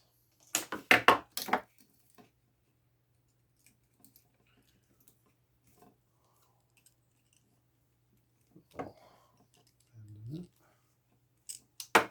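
Copper wire from a mid-century desk lamp is cut, with a quick run of close, crisp snips near the start. Quiet follows, broken by a few soft handling clicks and rustles.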